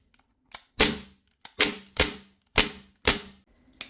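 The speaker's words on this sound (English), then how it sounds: "I'm going to shoot the gun 6 more times" Umarex AR-15 Strike Force automatic airgun firing six sharp, cracking shots at an uneven pace, each loud and close with a short decay, with no talking.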